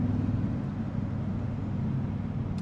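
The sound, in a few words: Toyota Sequoia TRD Pro engine with synthesized engine sound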